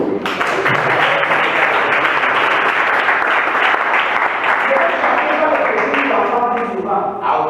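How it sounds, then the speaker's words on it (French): Sustained, loud applause and cheering for Jesus from a congregation at a church marriage seminar, a steady wash of clapping with voices mixed in throughout. "Est-ce qu'on peut acclamer pour Jésus?"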